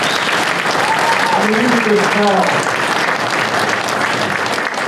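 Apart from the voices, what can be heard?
audience applause for award winners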